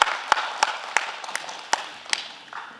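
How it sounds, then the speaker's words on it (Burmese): A church congregation claps for its youth: sparse, distinct hand claps spaced apart over a quiet room, fading out toward the end. "ကျွန်တော်အသင်းသူအသင်းသားမိဘတွေတစ်ချက်လက်ခုပ်တီးပေးကြလူငယ်တွေ"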